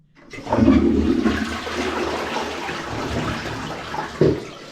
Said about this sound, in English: I usually always give it 2 flushes just to make sure